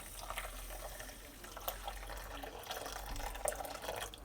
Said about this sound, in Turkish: Üstüne azıcık geçecek kadar su ekliyorum.